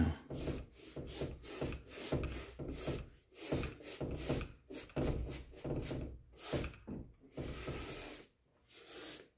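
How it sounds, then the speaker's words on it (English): A dry paint brush scrapes and scrubs across canvas in quick, irregular rasping strokes, close and fairly quiet, with brief pauses between bursts. "You can hear the brush is making that noise. You can tell that it's a dry brush."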